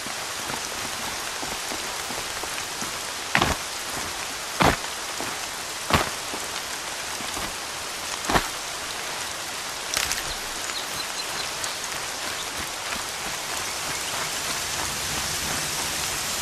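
Steady heavy rain hisses across the whole stretch in the video game Horizon Zero Dawn, with several sharp, loud drops or cracks popping out at irregular moments; no voices.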